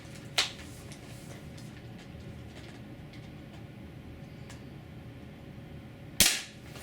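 D-Boys KAR98 airsoft spring rifle firing two sharp, loud snaps several seconds apart over a low background rumble, with no talking.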